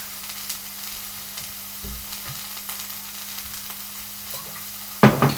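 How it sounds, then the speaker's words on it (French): A spoon stirs vegetable curry in a pot over quiet background sizzling, giving a few light scrapes and knocks. A sharper clatter comes near the end. "Hop, et je viens mélanger."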